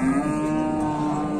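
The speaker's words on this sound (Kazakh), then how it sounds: "Малдар эми келип аткан азыр." Cattle moo loudly and continuously at a livestock market for dairy cows in Jalal-Abad, a close, sustained bovine call that fills the whole stretch with steady harmonic lowing.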